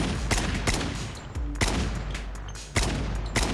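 Rapid, loud SKS rifle shots in the mobile shooter game Call of Duty Mobile, fired in quick bursts of cracks with short pauses between them.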